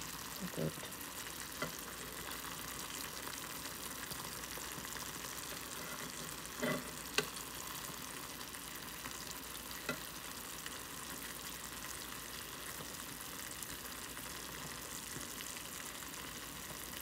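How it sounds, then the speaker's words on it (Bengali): Shrimp frying in oil in a watery pan, a faint, steady sizzle and bubbling with a few soft clinks and stirring noises. "তো এখানে চিংড়ি মাছ দিচ্ছি একটু তেলে ভাজার জন্য"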